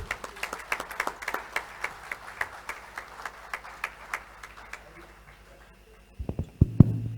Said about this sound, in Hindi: सारे मेंबर्स उसी असरदार तरीके से तालियां बजाएंगे सर के लिए